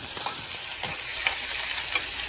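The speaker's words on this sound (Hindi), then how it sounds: "और इस तड़के में मैंने डाला है थोड़ा सा लहसुन, प्याज और हींग, टमाटर।" A tadka of garlic, onion, asafoetida and tomato hisses and crackles steadily in hot oil, a loud, close, continuous sizzle with no voices over it.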